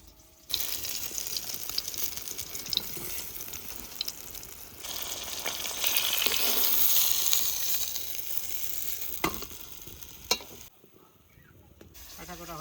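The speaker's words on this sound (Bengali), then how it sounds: "মাছ ভাজা হয়ে গেছে এবার তুলে নেব" Rohu fish frying in hot oil gives a continuous crackling sizzle that swells in the middle and drops away near the end, with brief clinks and a short quiet gap.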